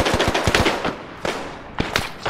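Automatic gunfire in a military video game: loud, close bursts of rapid shots in a few clusters, one after another, with no talk in between.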